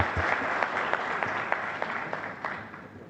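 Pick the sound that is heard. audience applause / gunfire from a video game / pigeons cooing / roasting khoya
audience applause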